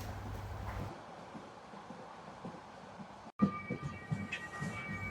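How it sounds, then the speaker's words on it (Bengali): The Cox's Bazar Express train runs fast through green hills toward Cox's Bazar. A continuous rolling rumble from on board briefly cuts out, then returns brighter and noisier with rattling and squealing. "দুই ধারে সবুজ পাহাড়, মাঝখানে দ্রুত গতিতে ছুটে চলছে আমাদের ট্রেন।"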